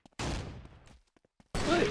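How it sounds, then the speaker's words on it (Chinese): Machine gun fire from the four-player brawl game Havocado comes in two loud, dense bursts separated by a short, nearly silent gap. "机枪好没用， 哦， 机枪变好红哦"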